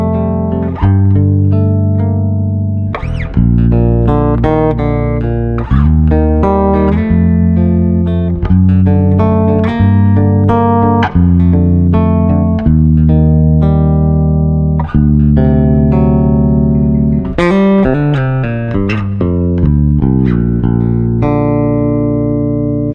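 Ibanez bass guitar with a bright, modern-voiced ash or alder body, extra highs dialed in, playing a loud, continuous line of plucked notes with no pauses.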